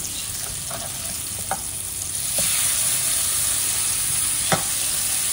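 A kingfish fillet fries in a pan Marathi style with a dense, even sizzle throughout, a few scattered spatula clicks, and the frying swelling slightly louder partway through.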